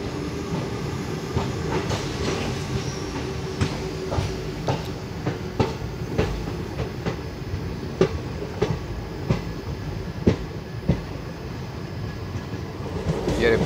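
The Mangaluru–Vijayapura Express runs through Karnataka, heard from inside a 3A air-conditioned coach: a steady rumbling roll with rhythmic clickety-clack wheel beats over rail joints, fairly close and continuous.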